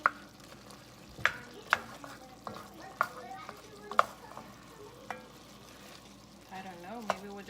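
Chicken browning in a hot pan with a soft, continuous sizzle, broken by sharp clicks and scrapes of a utensil against the pan at irregular intervals, close and fairly quiet.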